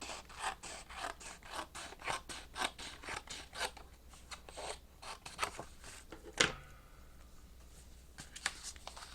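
Cardstock is scored for expandable coin envelopes, giving a series of quick rhythmic scraping strokes close by, then a sharper single swipe before quieter rubbing.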